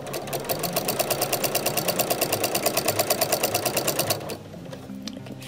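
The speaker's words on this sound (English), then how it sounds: "Now I am going to continue sewing this binding up till 1/4 inch, and then I'm going to take it out of my machine." A sewing machine runs quickly and evenly as it stitches binding onto a quilt, a close rapid mechanical rattle that stops after about four seconds, followed by faint handling of the fabric.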